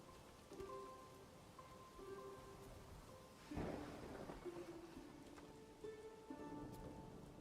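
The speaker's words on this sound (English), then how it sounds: "God, don't have rain a lot here, doesn't it?" Rain patters steadily in the Manor Lords video game, soft and continuous, with tonal game music drifting over it and a louder crack near the middle.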